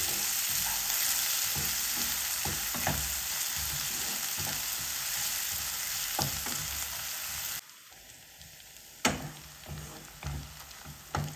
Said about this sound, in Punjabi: ਪਿਆਜ਼ ਨੂੰ ਚੰਗੀ ਤਰ੍ਹਾਂ ਮਿਕਸ ਕਰਕੇ ਆਪਾਂ ਤੇਜ਼ ਸੇਕ ਤੇ ਭੁੰਨ ਲਵਾਂਗੇ